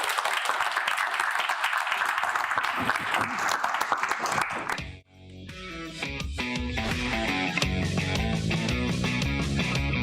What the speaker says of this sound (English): So a big round of applause from the audience here.